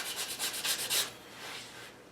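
English walnut stock for an HW80 air rifle rubbed with 120-grit sandpaper: quick rhythmic back-and-forth scratchy strokes, close and fairly soft, fading into lighter rubbing, with no talking.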